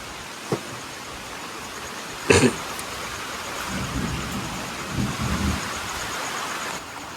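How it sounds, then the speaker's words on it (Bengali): Heavy rain keeps up a steady broadband hiss, broken by one sharp thunder crack near the middle and several lower rumbles afterward, all heard from indoors with no talk. "বৃষ্টি এসে গেছে পুরো।"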